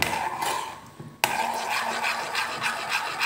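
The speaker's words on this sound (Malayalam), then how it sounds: "ഇത് നിങ്ങൾ കൈവിടാതെ ഇളക്കി കൊടുക്കണം ഇല്ലെങ്കിൽ അടിക്ക് പിടിച്ചു പോകും" Butterfly pea flower cream thickening in a pan, stirred continuously with rough scraping and rubbing strokes, close by, with a sharp knock near the start and no talk.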